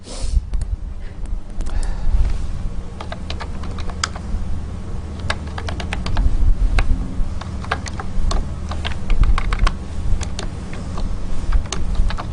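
Code typed on a computer keyboard, a fast continuous patter of close key clicks with brief pauses, over a steady low hum.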